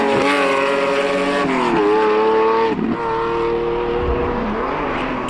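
A heavy, powerful GT race car howls through the fastest curve of a circuit at nearly 200 km/h, its loud engine holding a high whine with short dips as the revs drop and recover, heard close up.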